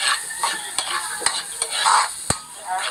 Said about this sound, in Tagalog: Lalagay mo na ang bawang.